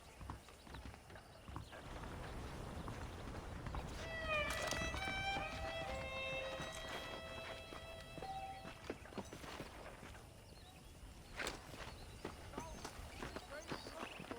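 Horses gallop in the Western video game Red Dead Redemption, their hooves clopping in a fast, steady rhythm throughout, with a brief tonal whistle-like sound partway through.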